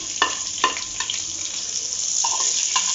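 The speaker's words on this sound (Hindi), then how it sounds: "अब हम इसमें प्याज फ्राई करेंगे।" Onions frying in a pan of oil after potatoes, for a Spanish omelette, give a steady bright sizzle with a few sharp spatula taps and scrapes.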